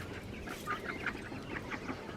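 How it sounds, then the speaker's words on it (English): Wild mallard ducks quack in a backyard flock, a string of short, moderately close calls over steady outdoor background noise. "wild flying mallards"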